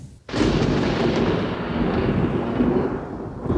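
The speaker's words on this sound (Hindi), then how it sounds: "बादल गरजना" A sudden loud boom of thunder breaks out and rolls on as a long, deep rumble that slowly fades.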